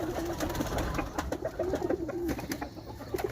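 Pigeons coo close by in repeated soft, throaty phrases that keep going throughout, with no one speaking.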